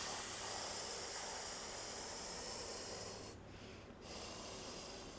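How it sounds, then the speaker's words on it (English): Faint, steady breathing in and out during a recovery exercise, soft airy hiss with a slow rhythm and a brief pause near the end, no talking. "Breathe in, breathe out. One more time. Breathe in, breathe out."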